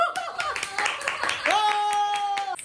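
A handful of sharp hand claps snap out over a tonal voice or music bed, spaced unevenly and fairly close, with a sustained note holding toward the end.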